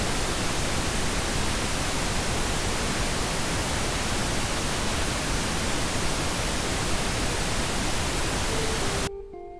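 A waterfall in Japan roars steadily as a dense, loud rush of falling water, unbroken until it cuts off abruptly just before the end.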